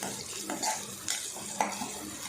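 Onion and garlic sautéing in a pan toward golden, a soft low sizzle with a few brief utensil scrapes and stirs, fairly quiet and close.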